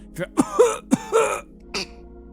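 A child fake-coughs several times in short, forced bursts, each with a rough throaty edge, close up, with small pauses between them.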